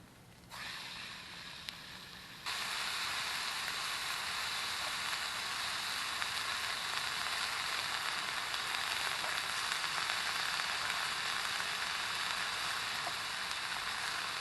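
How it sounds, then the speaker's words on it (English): Steak seasoned with chili flakes, salt, pepper and herbs sizzles loudly in a hot pan outdoors, a constant dense crackling hiss that swells after a quieter start and holds steady throughout. "Let's hear the sizzle."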